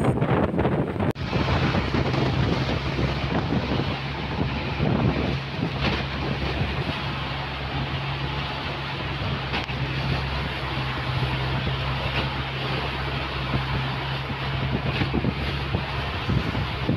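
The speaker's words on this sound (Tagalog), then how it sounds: "Yan o, laki ng alon." Large ocean waves and strong wind at sea near Apo Island: steady, loud, broadband rushing from wind buffeting the microphone and surging water, continuous and close with no clear pauses.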